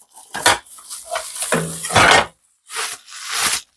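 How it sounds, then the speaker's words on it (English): A spatula or scraper clatters among metal kitchen utensils, with several close, loud bursts of scraping and clinking separated by brief pauses. "Oh, got another spatula or another scraper."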